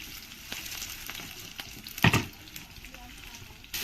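Potatoes fry in a pan with a low, steady hiss and soft stirring scrapes, then a sharp burst of spattering midway and a scrape at the end, heard close in a home kitchen.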